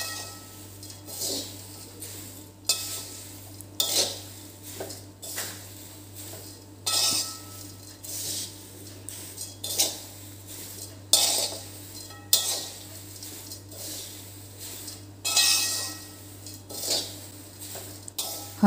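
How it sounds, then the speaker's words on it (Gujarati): A spoon mixes powdered sugar into papad pauva (flattened rice with papad) in a pan, scraping and clinking against the metal in a steady, repeated rhythm, close and moderately loud, with no talking. "હવે બધું સારી રીતે મિક્સ કરી દઈશું"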